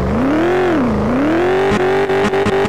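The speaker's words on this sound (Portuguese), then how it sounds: "Mas a Kombi ligou." Loud VW Kombi van engine in the Rebaixados Elite Brasil driving game, idling with a steady harmonic drone that rises and dips, then revs with several sharp throttle blips toward the end.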